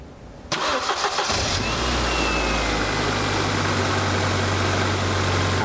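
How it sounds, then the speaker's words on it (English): A car engine cranks briefly and catches during a fuel pump test, then settles into a steady, loud idle that continues to the end. "put the ignition on, please. And then start the vehicle."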